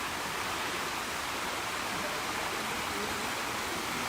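Water flows steadily in a botanical garden, a broad even rushing like a stream or small cascade, close and constant with no talk.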